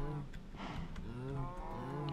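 Cows on a Minecraft cow farm moo in a couple of drawn-out, overlapping calls, fairly quiet under a faint background hum.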